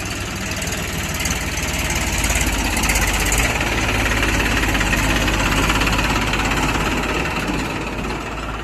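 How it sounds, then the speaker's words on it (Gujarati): A New Holland 3230 tractor engine runs steadily nearby, a loud continuous low diesel chugging with a knocking, vibrating texture that holds throughout. "જો ટ્રેક્ટર અત્યારે આવે છે, બતાવું તમને આગળ."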